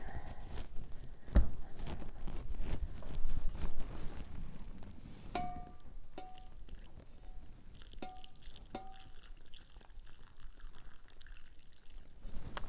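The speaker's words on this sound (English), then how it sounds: "add just a touch more broth" Broth poured into a dish, a soft splashing trickle up close for several seconds that fades into quiet handling noises and faint clinks, with no talk.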